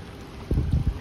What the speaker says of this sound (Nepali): सुन्न सक्नुहुन्छ हजुरहरूले यतातिर यति खोलाको छाउँछाउँछाउँछाउँ